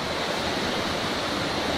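Pala-U waterfall in a tropical forest, a steady full rush of falling water, loud and continuous with no voices.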